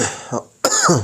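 A person coughs and clears their throat close to the microphone, a short rough burst, a brief pause, then a harsher cough that trails into a voiced sound.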